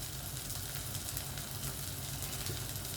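Steady crackling sizzle of food frying in hot oil, continuous and close, with no voices.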